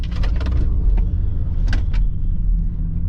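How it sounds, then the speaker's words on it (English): An electric SUV's synthetic engine-like acceleration sound, a Mercedes EQS SUV, drones steadily with brief higher whooshes rising over it, close and fairly loud, no voices. "As soon as you accelerate, you have a nice sound feedback here, which is cool."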